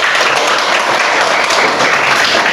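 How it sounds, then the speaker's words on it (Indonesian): Enthusiastic applause from a classroom audience for a student group that has just finished presenting its discussion results, a steady dense wash of clapping filling the whole stretch without a break. "Marilah kita memberikan aplaus yang meriah"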